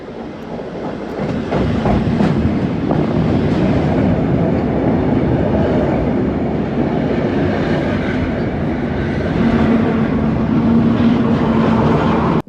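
A Steamrail Victoria heritage Tait electric train runs steadily and close by for the whole stretch, with continuous rolling rumble and rhythmic clickety-clack of wheels over rail joints.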